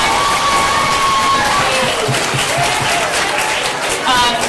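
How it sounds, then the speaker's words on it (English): An audience at an elementary school academic assembly claps and cheers loudly for fifth graders, with children's shouts and bright whoops rising over dense, continuous applause. "Let's give them another round of applause."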